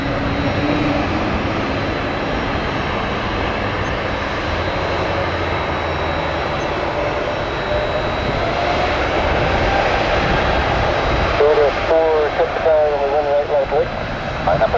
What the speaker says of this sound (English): Look at this gorgeous A220.